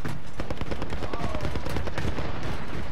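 Video game gunfire crackles in loud, rapid, dense bursts for the whole stretch, close and continuous, with voices faintly mixed in.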